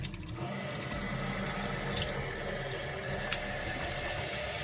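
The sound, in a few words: water from tap rinsing ackee tins in sink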